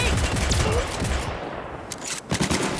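Gunfire in Cyberpunk 2077 comes as a loud, close burst of rapid automatic shots that runs on without a break. It drops off briefly, then a few more sharp shots crack near the end.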